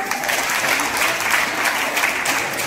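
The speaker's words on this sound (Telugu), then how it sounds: "Clap for her." Audience applause at a JCI Sunrisers gathering in Srikakulam, a continuous patter of many hands clapping at moderate loudness for the whole stretch.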